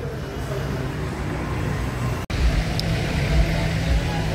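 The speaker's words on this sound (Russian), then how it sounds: "Пипец машин." Dense road traffic flows past as a steady rumble of many cars, with low engine drones and a brief interruption midway, while voices speak nearby.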